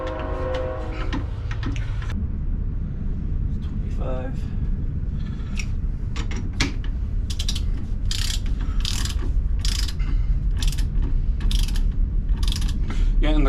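A ratchet wrench fitted with a 19 mm socket clicks in a steady run of sharp pawl ticks, close and clear, while people talk throughout.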